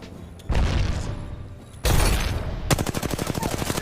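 Arc Star grenades detonating in the video game Apex Legends: two loud, sharp bursts with crackling tails, followed by a rapid, rhythmic volley of crackling pulses.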